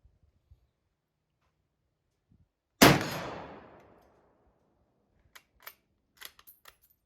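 A single loud gunshot from a French MAS-36 bolt-action rifle firing 1959 Toulouse ammunition cracks sharply and rings off in a decaying tail, followed by a few faint clicks and handling noises.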